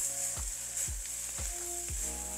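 Cooled basmati fried rice with pepper powder being reheated and tossed in a pan: a steady high sizzle with four evenly spaced soft scraping strokes of a spoon, close and fairly quiet, no voices.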